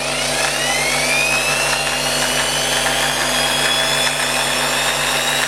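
A Kyuho K550 13mm corded electric drill spins at no load, with a loud steady motor whine close by whose pitch slowly climbs as the speed is raised.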